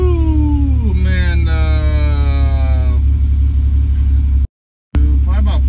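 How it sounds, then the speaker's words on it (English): An Acura NSX exhaust growls as the engine revs up and then settles, with rising and falling tones, a brief cut-out, and a short rev again afterward. "Exhaust got a nice little growl to it."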